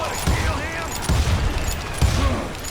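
Gunfire in the Western shooter game Call of Juarez Gunslinger: three heavy booming shots roughly a second apart, loud and near over a busy game soundscape.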